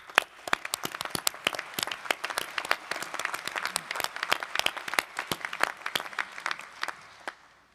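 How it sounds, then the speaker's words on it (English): Audience applause at a 2024 new lawyers induction ceremony in Texas: a large crowd claps steadily and densely, with sharp individual claps standing out close by, then the clapping thins and fades toward the end. "Please give them a round of applause."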